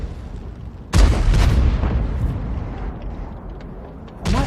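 A Lorraine 155 mle.51 self-propelled gun in a tank video game fires an artillery round, a single loud, deep boom that rolls on for a few seconds before a second blast begins at the end.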